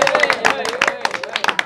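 Two children clapping at a children's comedy jugat contest in Faisalabad, a scatter of sharp, quick claps mixed in under a voice talking over them.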